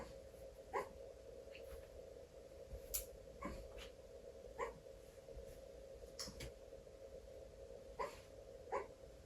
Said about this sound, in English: do you hear the puppy barks?